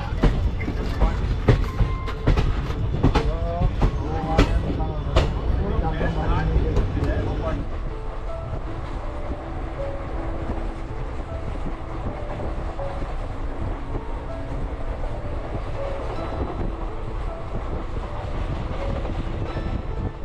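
The Leelan Express pulls out of Phulera Junction with a steady rumble of wheels and carriages and a constant wind-like roar. A voice speaks over the opening seconds.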